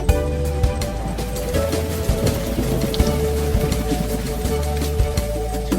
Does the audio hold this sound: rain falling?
yes